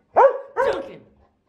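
Pet dogs barking, two loud close barks in quick succession, with no talk.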